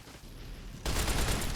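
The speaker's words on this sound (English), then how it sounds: "the recoil with this SMG is so unbelievably high" Submachine gun fire from the video game Fallout: New Vegas rattles in a dense burst of rapid shots starting abruptly partway in, after a quieter moment of game ambience.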